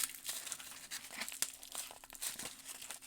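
Tight tape is peeled and torn from a knife package, giving faint, close crinkling and ripping bursts in an irregular rhythm, with no talk.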